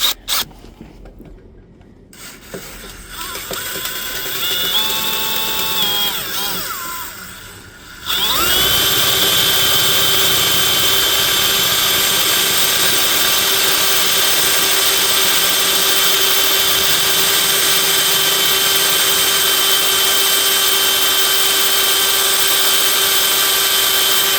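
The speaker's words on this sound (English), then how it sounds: "So we're just going to go ahead and drill it out." Power drill boring out a seized brake rotor retaining screw with a 1/4 inch bit on a 2019 Honda Accord rear brake; a short burst of whirring, a pause, then a loud steady high-pitched drill whine running without a break to the end.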